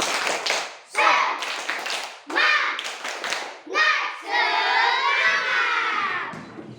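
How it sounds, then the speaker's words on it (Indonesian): Children in a school lesson perform the "tepuk semangat" clapping routine, bursts of rhythmic group claps broken by short pauses, with young voices shouting and chanting along close by. "Tepuk semangat."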